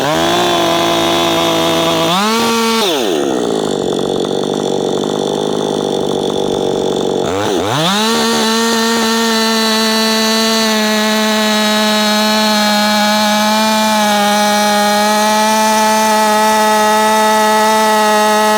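A Husqvarna 562XP chainsaw built for a 60cc challenge revs up, bogs down into a larger log with a lower, labouring tone, then screams back to a steady high-pitched wail at full throttle, loud and close.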